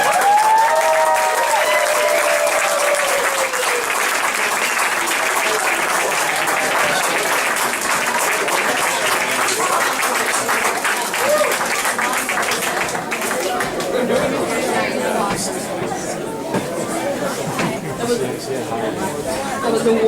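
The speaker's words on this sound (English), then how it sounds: "I think that deserves another round of applause." An audience at a coffeehouse performance night applauds after a storytelling act, a sustained wash of clapping with crowd chatter and voices mixed in, fading slightly toward the end.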